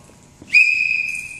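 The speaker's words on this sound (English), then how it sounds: "We'll hear one whistle" A single sharp, high archery-range whistle blast that starts abruptly and holds steady, loud and close, over a quiet low background.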